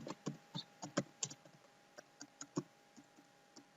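Computer keyboard keys tapped while writing HTML and jQuery code, a run of irregular close, crisp clicks with short pauses and no talking.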